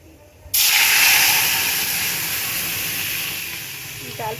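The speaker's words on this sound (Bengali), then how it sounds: "ডাল ফুটছে" Lentil dal cooking in a pot, with a loud hiss that starts suddenly like a burst of steam and holds on, slowly easing off, with no talking.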